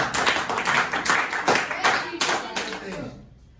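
Classroom group at a brain-teaser quiz game clapping for a correct answer, a short lively round of many claps that trails off near the end.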